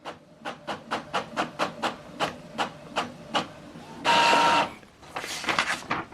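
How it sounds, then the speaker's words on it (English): An Epson XP 5200 printer prints a test page with a string of regular mechanical clacks at about two per second, followed by a loud whirring burst of paper feed and further rattling motor noise, close and clear with no talk. "So now it's printing."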